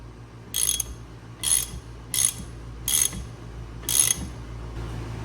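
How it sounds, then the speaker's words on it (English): Ratchet with a 14 mm Allen socket tightens fittings on an LS engine accessory drive kit, making five short ratcheting bursts spaced about a second apart over a low steady hum, fairly close. "I'm taking me a 14 millimeter Allen socket and I'm tightening them down"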